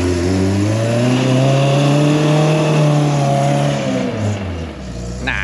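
An off-road rig powers through deep snow, its engine revving loud and close in a long, rising and falling drone that holds steady for several seconds before easing off near the end.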